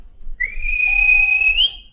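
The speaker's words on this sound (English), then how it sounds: "the guard whistled" A railway guard's whistle at a station sounds as a single clear, shrill blast lasting about a second, close and loud, rising slightly in pitch at the end.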